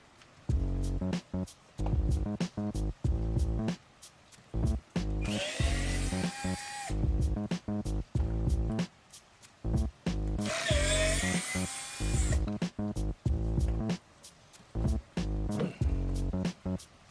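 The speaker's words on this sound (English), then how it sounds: "You have to remove these six Torx 20 screws." Power driver working Torx 20 screws inside a Tesla, with rapid bursts of close whirring split by short pauses and two longer high-pitched runs in the middle.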